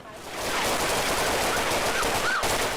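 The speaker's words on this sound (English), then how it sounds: "This was the gunshot that triggered Pueblo's first deadly officer-involved shooting of 2018." Dense, sustained crackle of rapid gunfire from a deadly police shooting in Pueblo fills the clip after a brief quiet start, sounding distant and continuous like a volley of shots.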